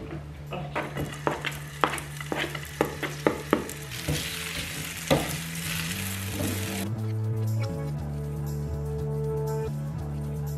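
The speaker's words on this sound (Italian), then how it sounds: "Padella, mettiamo un po' di olio e buttiamocela dentro." Pancetta dropped into oil in a frying pan, with several sharp clatters and stirring knocks at first, then a steady close sizzle that settles into continuous frying over faint background music.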